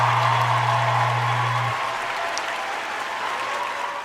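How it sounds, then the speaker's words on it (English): Audience applause, a steady wash of many hands clapping at a consistent level, with a low hum fading out partway through. "Let's clap for that."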